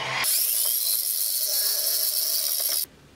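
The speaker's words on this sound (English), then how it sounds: "I'll drill some bigger 5mm holes into the bracket here" A power drill boring 5mm holes into a bracket above a sacrificial board, a loud, steady high-pitched whine lasting nearly three seconds before stopping abruptly.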